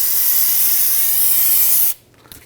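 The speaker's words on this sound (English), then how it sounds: "go ahead and use your spray solvent" Solvent cleaner sprayed onto the front brake parts of a 2010–2019 Ford Taurus: a loud, steady, close aerosol hiss lasting about two seconds, then cutting off abruptly into near quiet.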